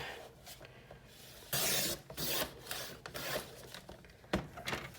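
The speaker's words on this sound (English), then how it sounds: "I'm going to grab my trimmer, and I'm actually going to cut this down to 6 inches." A paper trimmer slicing cardstock down to 6 inches, heard as close rasping, sliding scrapes in several bursts, the loudest sweeping stroke in the middle, with softer rubbing and handling noises around it.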